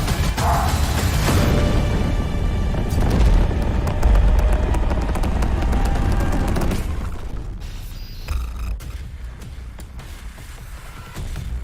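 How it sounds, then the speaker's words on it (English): A loud explosion in the New World video game, a sustained heavy rumbling blast with crashing debris that gradually fades, followed by quieter mechanical clatter. "That was a fucking loud explosion hype reel is what that was."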